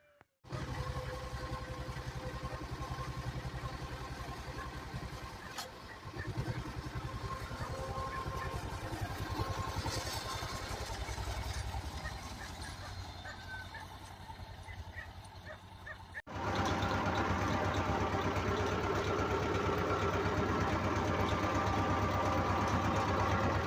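A tractor engine cranks and settles into a steady running drone before sowing winter wheat on a field, the rumble loud and continuous throughout, growing fuller and louder toward the end.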